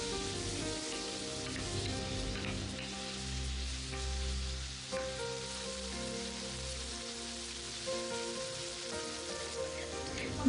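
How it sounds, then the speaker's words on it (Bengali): Shrimp fry in a pan with onion, green chili and garlic, giving off a continuous even sizzle like light rain, with occasional soft stirring knocks. "চিংড়ি মাছের সাথে এটাকে নেড়ে চেড়ে ভালো মতো ভেজে নেব"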